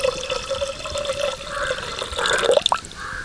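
Water poured into a clay pot for cooking greens, a steady splashing trickle with liquid gurgles rising in the last second; close and moderately loud, no voices.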